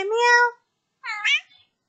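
Two separate meows, a longer drawn-out call followed by a shorter rising one after a brief pause, close and fairly clear.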